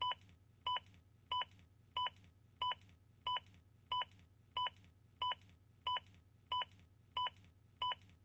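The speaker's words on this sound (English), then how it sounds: "The beeps will speed you up." Regular electronic beeps from a Zoll AED Plus defibrillator's CPR metronome, about thirteen evenly spaced short tones roughly every 0.65 seconds over a low steady hum, with no talking.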